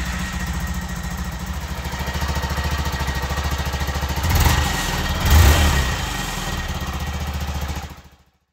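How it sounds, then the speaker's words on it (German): A Honda Monkey motorcycle after an oil change: the small single-cylinder engine idles with a fast, even putter, blips a couple of times, then cuts off abruptly. "wenn uns die Batterie über den Winter nicht in den Stich gelassen hat, sollte die Marke jetzt anspringen"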